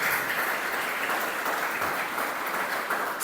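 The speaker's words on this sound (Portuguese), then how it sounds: "Você pode aplaudir a Deus pela vida do pastor de vocês." A church congregation bursts into steady, dense applause, a continuous even roar of many hands clapping with no talk over it.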